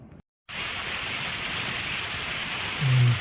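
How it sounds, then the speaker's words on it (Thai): Rain falls in a steady, hissing wash after a brief moment of silence, with a low rumble swelling near the end. "ฝนก็เริ่มตก เริ่มตกอีกแล้วนะครับ"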